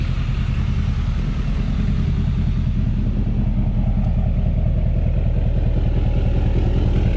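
A pickup truck's diesel engine idles just after starting, close and loud, with a steady low rumble and rapid mechanical clatter that holds evenly throughout, with no talking.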